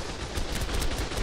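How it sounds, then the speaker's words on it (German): Rapid gunfire in ARK: Scorched Earth, a dense burst of repeated shots pulsing steadily across the moment, loud and close with no speech over it. "weil ich höre dich jetzt noch schießen"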